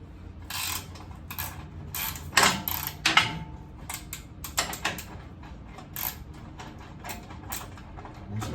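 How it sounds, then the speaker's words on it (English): A ratchet and an 18mm wrench work loose a bull bar bolt on an F150, giving sharp irregular metallic clicks and clanks at close range, with brief bursts and pauses between them. "Put a closed-in wrench on one side. Put a ratchet on the other side."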